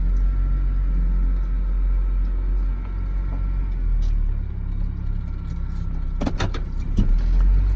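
A GMC Sonoma truck, its transmission recently fixed, backs out of dirt with a steady, close engine rumble, and a few sharp clicks and rattles break through near the end.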